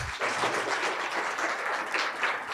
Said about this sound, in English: another big round of applause